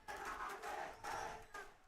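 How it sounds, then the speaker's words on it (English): A large crowd in Jakarta chants in rhythmic surges at an esports grand final, a distant roar rising and falling in repeated waves. "the crowd here in Jakarta was chanting for Boom"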